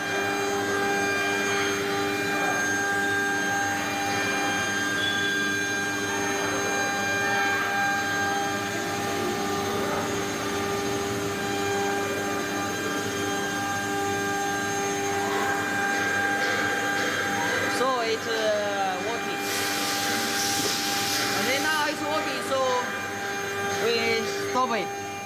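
A CC MS3020K12 cylinder engraving CNC milling machine runs with a steady, loud mechanical whine and hum that holds throughout, with brief higher-pitched squeals and a burst of hiss near the end.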